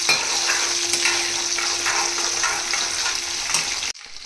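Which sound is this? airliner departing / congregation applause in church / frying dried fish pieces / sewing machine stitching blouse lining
frying dried fish pieces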